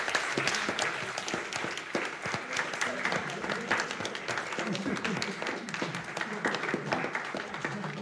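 An audience at an eloquence contest applauds the winners, a full room of clapping that stays steady and fairly loud, with voices talking over it throughout.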